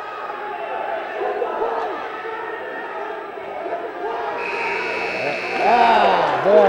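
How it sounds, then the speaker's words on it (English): A period-ending buzzer sounds at a high school team dual wrestling match, a sustained electronic tone cutting in late over a commentator's talk and crowd noise in a gym. "right at the buzzer"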